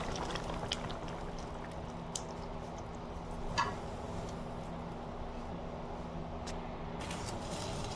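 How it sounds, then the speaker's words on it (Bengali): A tilapia fish curry with taro roots bubbles at a steady simmer, a low continuous burbling with occasional faint ticks and pops, quiet and unbroken with no voices. "আমার তরকারিটা পরিপূর্ণভাবে ফুটে উঠেছে"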